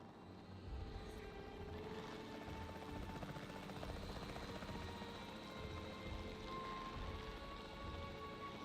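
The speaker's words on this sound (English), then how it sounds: "The priority needs to be tranquilizing it with the capture team chopper." The capture team helicopter in Jurassic World Evolution 3 flies with a steady, dense rotor roar that continues without a break and stays at an even level throughout.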